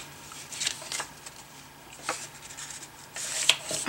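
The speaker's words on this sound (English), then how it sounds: "I'll use the bone folder" A bone folder is drawn along the fold of a paper card to crease the edge, making soft, close, dry scraping and brushing strokes in several short passes with no talking.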